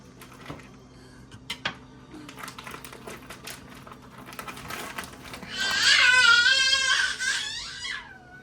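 A young boy shrieks and wails in a high, strained cry for a few seconds, loud and fairly close, after a stretch of quiet clattering and kitchen handling noises.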